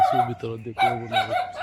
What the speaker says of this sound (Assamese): এইটো কুকুৰে ভুকি আছে